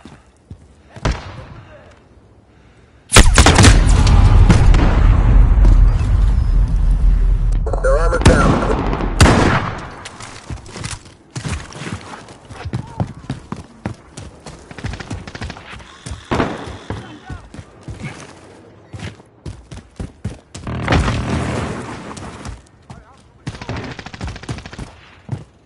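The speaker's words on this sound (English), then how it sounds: "Friendly sentry gun online." A sentry gun in a PS4 video game opens up in a loud sustained burst of rapid fire, followed by scattered sharper shots and bursts continuing through the rest of the stretch.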